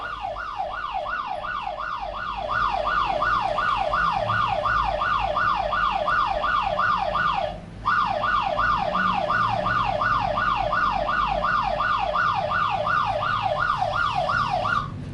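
A loud, piercing phone anti-theft siren wails in a fast repeating up-and-down cycle, cutting out for a moment and then resuming at full volume, close up.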